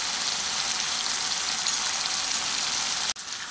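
Potatoes fry in oil in a pan for a Bengali vegetarian chana dal biryani, giving a steady, even crackling sizzle that cuts off abruptly near the end before resuming.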